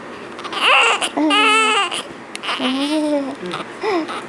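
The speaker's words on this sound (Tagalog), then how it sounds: "Napabayaan ng mami umiyak." A newborn on its first day of life wails in short, rising and falling bursts, loud and close, with brief breaths and gaps between the cries.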